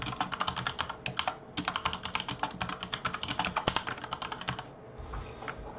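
Steady typing on a computer keyboard, close and clear, with quick irregular key clicks running for several seconds before tapering off, and no talk over it.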